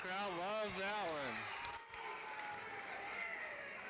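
A high school basketball crowd in a West Wendover gym roars after a blocked shot, cheering and clapping swelling under a voice that talks over the noise at the start.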